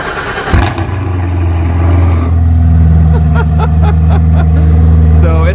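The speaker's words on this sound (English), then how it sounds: "let's get a cold start of a 2016 Chevy Z06 Corvette with an Army Tricks X-Pipe catback system" 2016 Chevy Corvette Z06 with an Armytrix X-pipe catback exhaust cold-starting: a short starter crank, a sharp loud flare of revs, then a steady deep rumbling idle close by.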